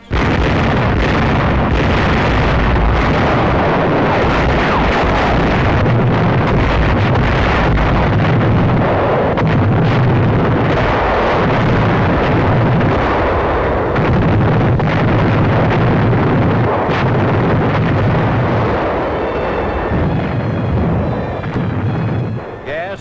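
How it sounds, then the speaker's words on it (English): Big naval guns fire on Rendova shore installations during the World War II invasion, a dense, continuous roar of booming blasts and rumble under heavy wind noise, with a narrating voice over it. "Rendova shore installations come within range of our big naval guns."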